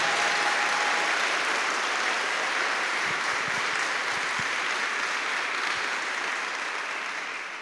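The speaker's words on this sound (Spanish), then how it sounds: "Fuerte ese aplauso para Él." A worship congregation claps loudly in praise to Jesus, a continuous, full-bodied applause with a few stray low thumps midway, holding steady before tapering slightly at the end.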